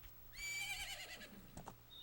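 Horse neighing in the video game Majora's Mask, a single bright whinny with a falling tail, followed by a couple of short thuds like hoofbeats over a steady low game hum.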